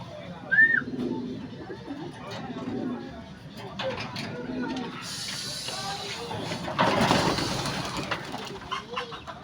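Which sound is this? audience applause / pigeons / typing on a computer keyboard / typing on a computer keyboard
pigeons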